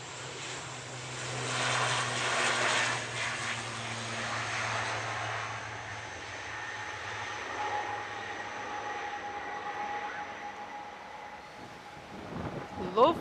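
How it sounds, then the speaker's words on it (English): An 11-year-old ATR 72-600 turboprop airliner takes off at Manchester Airport, a broad steady engine roar with a low drone that slowly fades as it climbs away, heard outdoors with wind and no talking. "Lovely takeoff."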